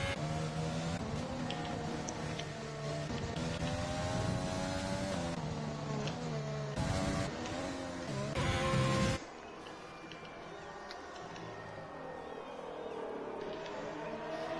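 Ferrari race car engine in a racing video game, a loud continuous whine with shifting pitch and gear changes throughout, dropping to a quieter, steadier drone partway.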